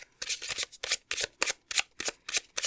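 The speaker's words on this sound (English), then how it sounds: "See, I shuffled the Lenormand pretty well" A Lenormand card deck being shuffled in quick, regular riffle bursts, about nine crisp rustling snaps in under three seconds, close and clear with no talking.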